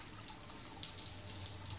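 A shower runs with a steady, even hiss of spraying water, close by and moderately quiet, unbroken from start to finish.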